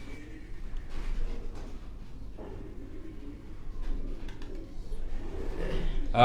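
Sialkoti pigeons cooing softly, low repeated coos fairly faint against a steady background hum.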